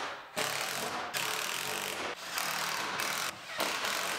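Close ratcheting of a hand ratchet bolting a side panel onto a 2017 GMC Terrain Denali, several rapid grinding bursts separated by brief pauses.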